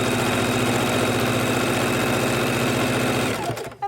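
A sewing machine stitches a fabric potato warmer bag in a fast, even needle rattle up close, running steadily before stopping abruptly near the end, no voices.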